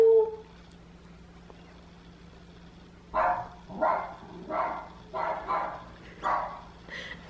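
A dog barks about six times in a steady, evenly spaced series of sharp, moderately loud barks indoors after a few quiet seconds, with no talking over them.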